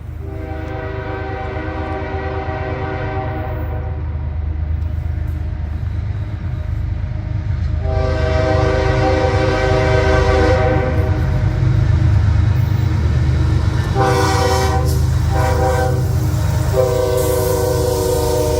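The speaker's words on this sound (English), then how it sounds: "Our first train, however, was very nice, with a BNSF Jevo leading a BN Executive Mac" A BNSF Jevo locomotive leading a BN Executive Mac passes close by with loud, sustained rumbling from engines and rolling cars, and its horn sounds in three long blasts, the last broken into shorter pulses.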